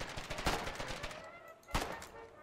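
Gunshots in the video game Foxhole come as a quick run of faint, rapid shots followed by a pause and then a single sharper crack, with a hint of voices in the background.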